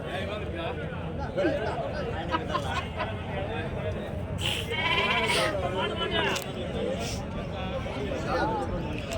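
Large red sheep and rams bleat repeatedly at a busy livestock market, with several calls overlapping close by. A crowd chatters steadily underneath, and people talk nearby.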